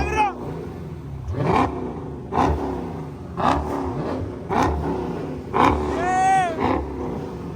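A heavily cammed Chevrolet Camaro revs repeatedly in traffic, each rising roar followed by a choppy lumpy idle. The blips come at a steady pace, with excited voices of onlookers mixed in.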